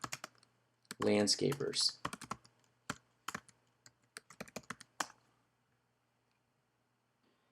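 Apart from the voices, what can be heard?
typing on a computer keyboard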